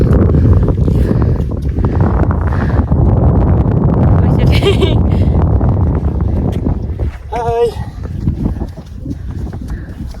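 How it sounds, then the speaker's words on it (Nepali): Wind gusting across the microphone on a hiking trail in Arches National Park, Utah, a loud steady buffeting rumble throughout, with voices talking over it in places. "मजाको हावा लागिरहेछ"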